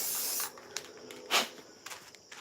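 Paint sprayed onto a chainsaw-carved wooden cardinal: a steady hiss at first, then short separate spray bursts, with one louder puff midway, close and alone without voices.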